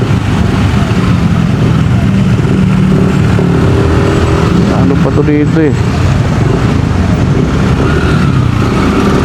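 Dense road traffic of cars and motorcycles rumbles steadily, with an engine revving up midway, while a person speaks briefly over the noise.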